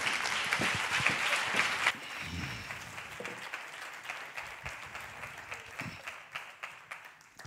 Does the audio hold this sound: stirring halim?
no